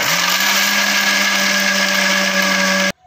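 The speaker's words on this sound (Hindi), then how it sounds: "अब इन्हें हम एक मिक्सी के जार में डाल देते हैं।" A mixer grinder runs steadily, grinding crumbled rotis into powder in a mixie jar, a loud constant whir held for nearly three seconds before cutting off abruptly.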